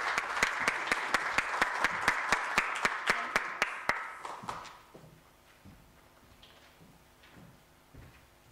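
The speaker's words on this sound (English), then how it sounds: "may we give them a round of applause" An audience at a university public lecture applauds steadily, with dense clapping that holds for about four seconds and then fades out. Faint room noise and a few quiet shuffles follow.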